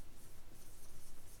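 Hand writing a sentence: quick, rhythmic scratching strokes of a pen on paper, close and faint, in a regular pulsing pattern.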